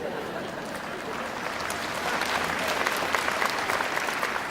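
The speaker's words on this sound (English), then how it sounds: "if I deserve any applause, I think now is the time for it" Graduation ceremony crowd at FRCC Larimer Campus claps steadily, a fairly faint, even wash of applause that swells slightly toward the end, heard from within the hall.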